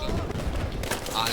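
Video game gunfire crackles as a dense, continuous volley of shots during battle, loud and unbroken, with a voice faintly mixed in.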